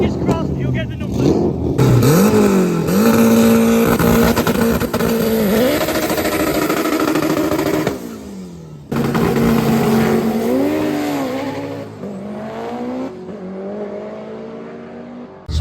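A boosted drag race car launches loud and close on a half-mile run, engine climbing through rising gear pulls with a brief shift break midway, then screaming on toward over 200 mph; crowd or commentary murmurs faintly underneath.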